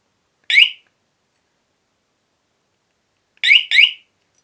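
A waterproof, self-powered Honda motorcycle alarm gives short, sharp electronic chirps: one burst, a long silence, then a quick double chirp, loud and clear with nothing else audible.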